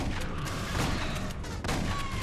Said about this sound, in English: Oh wow, that was the lamest explosion.